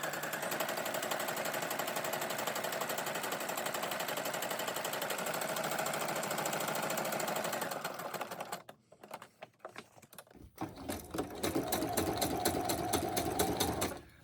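A sewing machine runs steadily while stitching on scrap paper, giving a fast, even mechanical chatter for most of the stretch, then a brief pause with scattered clicks before the motor whirs up again.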